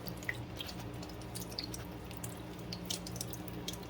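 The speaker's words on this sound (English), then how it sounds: "we're going to have a little water coming out. Luckily it's hitting down in our bowl" Water drips from a Kohler Cimarron toilet tank down into the bowl during a repair, sparse close plinks and small splashes over a faint running-water background.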